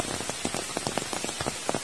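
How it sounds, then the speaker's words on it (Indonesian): Rain patters on surfaces in a remote Javanese village surrounded by trees, with a steady wash of falling rain and irregular louder drops striking close by, no voices. "Semakin sahdu suasana di sini saat hujan seperti ini ya"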